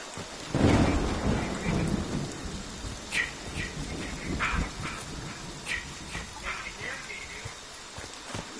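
Thunder rolls through a rainstorm, a loud rumble near the start fading into lighter grumbles while steady rain patters throughout, with voices talking faintly over the weather.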